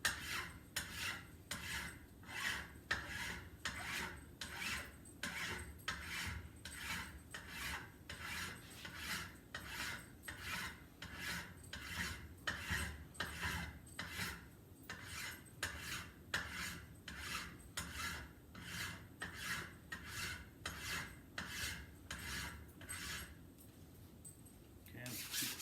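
Metal file rasping on a hammer clamped in a vise, dozens of rhythmic back-and-forth scraping strokes at a steady pace, close and fairly quiet, ending with a few lighter scrapes.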